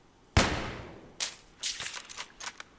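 Gunfire in the video game Battlefield 3: a loud single shot with a long decaying tail, followed by several quicker, lighter bursts of fire and clatter over the next two seconds.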